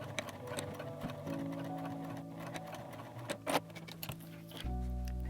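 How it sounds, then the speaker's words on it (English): A home sewing machine stitches a DIY dog or cat collar in a fast, even mechanical patter that runs steadily, pauses briefly, then resumes louder and heavier near the end. "I'm going to stitch from the top because it makes a prettier stitching line"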